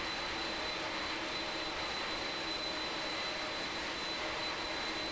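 Boeing 767 jet engines in Microsoft Flight Simulator 2020 during a descent with flaps lowering, heard as a steady, unbroken broadband roar with a faint high whine running through it, even and continuous throughout.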